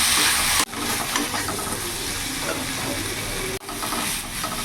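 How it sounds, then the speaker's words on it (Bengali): Fried potatoes sizzling in a pan with spices while being stirred, a steady close hiss with scraping stir sounds, briefly cut twice. "এবার আরও কিছুক্ষণ 2 মিনিট আমি কষিয়ে নেব আলুর সাথে।"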